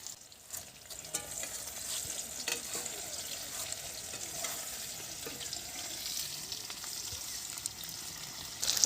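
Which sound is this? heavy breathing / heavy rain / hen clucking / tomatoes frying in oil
tomatoes frying in oil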